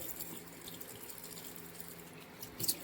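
Water wetting the face during an at-home hydra facial, a soft, steady watery hiss running throughout at low volume, with a slightly louder splash near the end.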